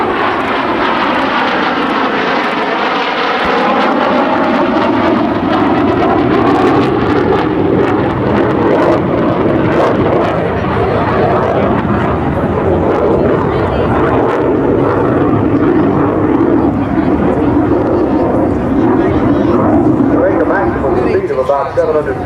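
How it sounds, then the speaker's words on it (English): F-100 Super Sabre jet at the 2010 Westfield International Airshow, a loud continuous roar that swells and shifts in pitch as it passes, steady throughout with a voice talking over it. "Great shot of the F-100 Super Sabre and Dean Cutshall."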